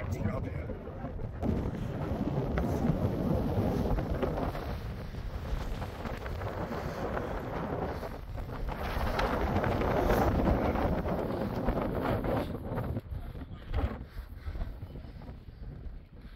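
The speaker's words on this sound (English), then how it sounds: "Very windy up here." Strong, gusting wind buffets the microphone at the summit of Mount Snowdon on the Llanberis path, a loud, continuous roar that swells and eases, with people talking faintly beneath it.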